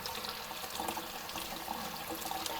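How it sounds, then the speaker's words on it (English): Tap water runs to flush out a battery-damaged camera, a faint steady splashing and hiss of water from pipes, continuous and close with no talking. "I think I really have to flush this entire camera with fresh water."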